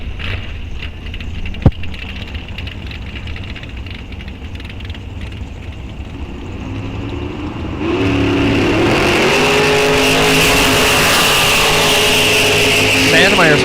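Bracket drag racer at Rock Falls Raceway launching hard off the line with a wheelie, its loud engine revving up through rising gears and roaring down the strip; crowd and track noise before the launch, then a sustained near, loud run.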